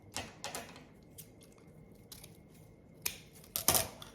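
Scissors snip ribbon free from its roll while making fall kitchen decor, a few sharp close cuts and rustles spread across a few seconds, with a louder cluster of snips near the end and no talk.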